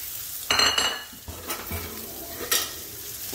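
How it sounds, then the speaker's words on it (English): Close stirring of food in a pan, with a few loud scraping and clinking bursts of utensil against cookware over a light sizzle, and no talking. "Stir that around."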